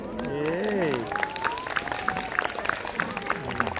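An audience at an outdoor arts festival street show claps in a scattered, rhythmic way that fades to sparse, evenly spaced claps, with voices rising over it at moments.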